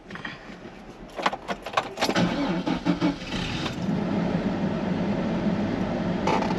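A race car engine with a newly replaced power steering pump cranks with a few rough stuttering bursts, then catches and settles into a steady, loud running rumble nearby.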